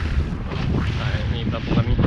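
Strong wind buffets a fishing boat out on the water after heavy rain, a steady loud rushing roar across the whole clip with gusty swells and microphone wind noise.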